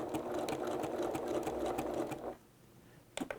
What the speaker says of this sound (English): to secure this, I'm just doing really tight little zigzag stitches